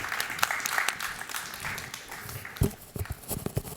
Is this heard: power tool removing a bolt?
no